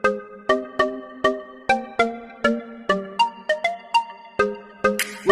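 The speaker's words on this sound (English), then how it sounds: "click that notification bell" A notification bell sound effect plays as a rapid run of about a dozen clear, ringing chime notes, each struck sharply and decaying quickly, loud and alone.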